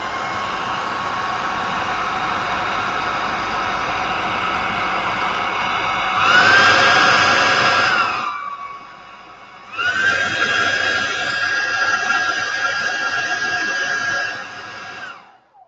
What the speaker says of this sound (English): I'll be using hairdryer.